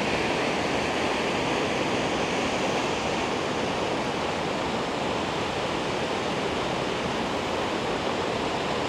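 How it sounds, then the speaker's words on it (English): Paddys River Falls pours down in heavy flow, making a dense, steady roar of rushing water that stays constant and loud throughout, with no voices. "Paddys River Falls. I've been here once before, but there was nowhere this much water coming down through it."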